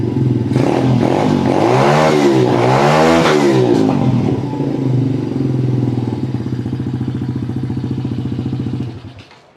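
A mini dirt bike engine revs hard twice with rising and falling whines, then drops to a loud, steady idle that cuts off at the end.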